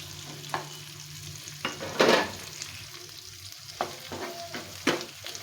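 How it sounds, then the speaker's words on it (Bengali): Onion frying in a pan gives a steady soft sizzle, broken by a few scraping stirs and clinks of a utensil, close and alone without speech. "বেশ কিছুক্ষণ ধরে পেঁয়াজটাকে ভেজে নেব"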